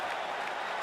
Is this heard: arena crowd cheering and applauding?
yes